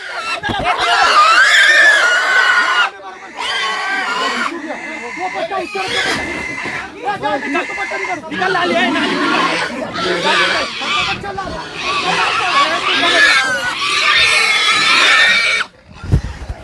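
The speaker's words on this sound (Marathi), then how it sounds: "एकदम आरडाओरडा डुकरांचा सुरू आहे" Loud, continuous high-pitched squealing from several pigs being caught and carried out fills the scene in long overlapping bursts, with a voice briefly heard near the end.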